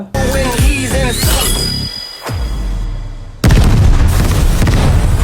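A loud, booming explosion effect erupts and roars on with heavy rumbling, preceded by whooshing, zinging sweeps.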